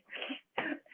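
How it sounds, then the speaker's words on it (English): Two short, muffled coughs sound in quick succession from someone in a room, faint and somewhat distant, with no talking over them. "Bev had to leave the room with a cough"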